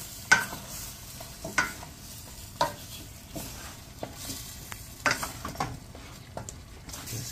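Beef stew in red chile with potatoes being stirred in a pot: a handful of distinct spoon knocks and scrapes at irregular intervals over a soft low simmer, nearby, no voices.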